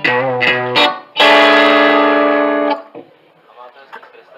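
A distorted electric guitar played through a digital multi-effects unit, with a few sharp chords and then a long sustained, buzzy chord ringing for about a second and a half before it cuts off and a quieter tail follows.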